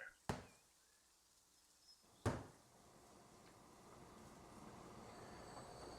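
Two sharp, loud clanks ring out a couple of seconds apart, followed by a steady rumble that slowly swells as a Metroliner train passes in the game Transport Fever 2.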